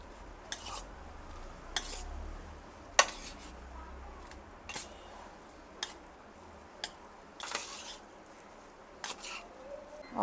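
Tamarind pulp is mixed into cooked rice for pulihora, with soft, scattered clinks and scrapes of a utensil against a vessel at irregular intervals over a quiet background.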